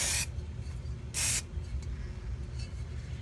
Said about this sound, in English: So they go on just like any other kind of spray.